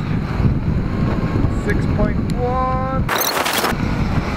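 Wind blowing steadily across an open kite testing field, a constant rough rush buffeting the microphone, with a few faint whistling tones partway through.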